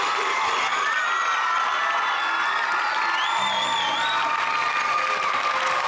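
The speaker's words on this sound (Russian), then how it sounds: "Аплодируем громче, дорогие друзья!" A crowd at a festival award ceremony for the Yoldyzlyk 2009 vocal contest cheers, whoops and shouts loudly with some clapping mixed in, a continuous roar with higher voices rising above it and a brief voice partway through.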